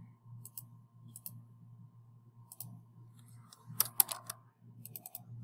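A computer mouse clicks quietly in short bursts over a soft low hum, with one sharp pair of clicks standing out among lighter taps and keyboard-like clicking.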